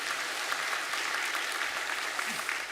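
A church congregation claps to welcome a newly registered family, an even, moderately quiet patter of many hands sustained for a few seconds with no voices over it.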